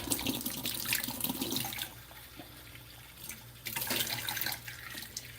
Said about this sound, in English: Sorry about the water noises